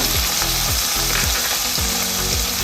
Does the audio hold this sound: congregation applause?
no